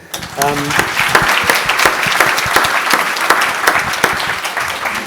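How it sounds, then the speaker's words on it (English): An audience at a scientific society's evening Q&A event breaks into a warm round of applause, lively clapping from a moderate crowd with a brief voice audible at the start. "Maybe give them a round of applause."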